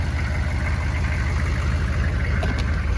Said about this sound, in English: the engine's warm, I feel like it would start a lot easier